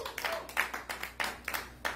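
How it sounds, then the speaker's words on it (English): Congregation clapping during a church service, a rhythmic series of about eight sharp, evenly spaced claps from many hands together, moderately loud in a reverberant room. "Let's give God a clap offering"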